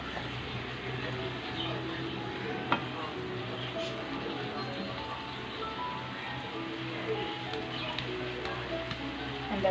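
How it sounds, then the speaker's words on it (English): Cooked vegetables for veg hakka noodles are stirred in a hot pan, producing a soft, continuous sizzle and faint scraping, fairly quiet and even throughout, with no voices. "Give it a good stir again."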